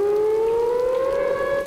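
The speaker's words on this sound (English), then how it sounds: "The sound of the siren as the downpour continued here at Broadcast Park." A civil defense siren wails steadily at Broadcast Park during a heavy downpour, its tone slowly rising as it sounds clearly and alone over faint background noise.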